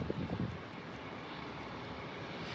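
Faint, steady jet engine rumble of a black Luftwaffe Airbus A320 at Heathrow, heard from a distance, with a few soft low thumps at the start, with no talk.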